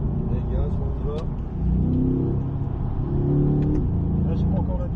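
A Corvette C8 engine pulls hard on a race circuit, a loud throaty roar rising in pitch under throttle from inside the car, with people talking over it.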